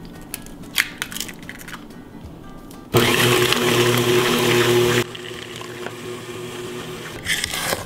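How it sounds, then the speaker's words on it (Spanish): Electric mixer beating three eggs, added one at a time, into creamed butter and sugar for a pineapple upside-down cake batter; a loud steady whir starts partway through, cuts down after a couple of seconds, then continues more softly with faint clatter. "le vamos a poner 3 huevos de uno en uno. Lo vamos a ir batiendo poco a poco"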